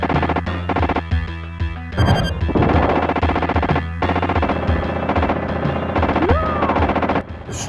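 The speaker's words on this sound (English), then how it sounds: "shoot down those HK hunter killers that are in the background flying around" Gunfire in a Terminator light gun video game as hunter killer aircraft are shot down, with loud rapid machine-gun bursts and crashing explosions over a steady electronic game soundtrack.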